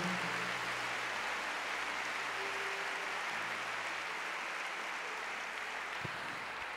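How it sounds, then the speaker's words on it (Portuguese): A church congregation applauds in a dense, even wash of clapping that sounds distant and soft, continuous throughout with no break and one brief knock near the end. "Aplauda forte ao Senhor por isso"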